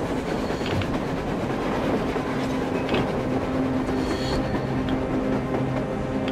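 A train rolls past on the surface in the post-apocalyptic shooter Metro Exodus, a loud continuous clatter and rumble of wheels on rails with faint squeals, steady throughout and without talk.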